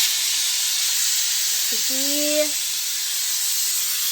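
A pressure cooker vents steam in a continuous loud hiss while okra curry with masala cooks, a broad even rush that holds steady throughout, with a short faint tonal sound partway through.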